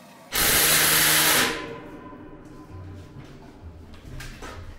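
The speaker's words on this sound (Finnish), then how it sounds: "No niin, muuta kuin porailee." A loud power drill whirs for about a second while drilling a hole on a balcony, then cuts off, leaving quieter scraping and rattling afterward.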